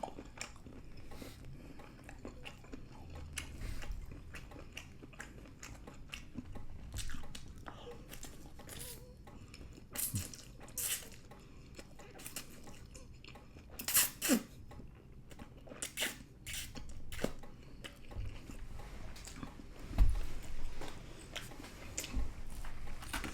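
Soft wet chewing and biting on shrimp dipped in broth during a Chinese dinner, close and quiet, with occasional clicks and smacks and brief speech.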